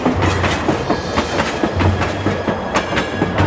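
A train rolls along with a steady rhythmic clickety-clack of wheels on rail joints under a constant rumble, loud and close.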